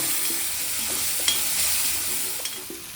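Ground masala paste frying in a tempering of browned onion, tomato, curry leaves and turmeric. The sizzle is steady and close, with faint stirring clicks throughout.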